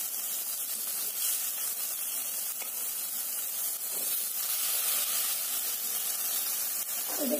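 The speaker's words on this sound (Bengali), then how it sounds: "এরপর কোপ্তাগুলো কড়াইয়ের মধ্যে দিয়ে দিচ্ছি।" Green banana koftas fry in a wok with a broad, steady hiss that keeps an even loudness throughout, with faint rustling stirs and no voices.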